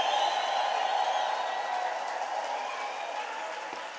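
A church congregation applauds, a dense, steady wash of many hands clapping that stays loud throughout and eases slightly toward the end, with no speech over it.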